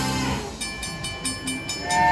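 Monopoly Big Wheel slot game plays a train sound effect: a short run of rhythmic clacking wheel beats and chugging bursts with a tonal whistle-like ring, bright and close.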